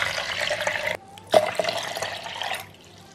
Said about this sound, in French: On va commencer par mettre deux mesures d'eau.